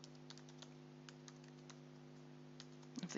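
A password typed on a computer keyboard during a cloud software install: quiet, irregular clicks of keys over a steady electrical hum, with a quicker flurry of keystrokes at the end.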